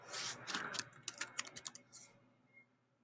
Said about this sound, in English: And so with this, you just type in your name